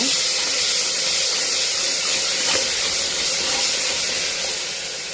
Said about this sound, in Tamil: 2 தக்காளி கட் பண்ணதை சேர்த்து வதக்கிடுங்க.